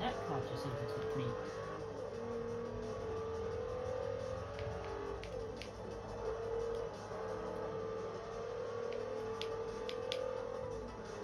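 Engine sound of a car overtaking during a race in Forza Motorsport 4 on Xbox 360, a steady mid-level engine drone with soft game effects, fairly quiet throughout with no clear pass-by swell.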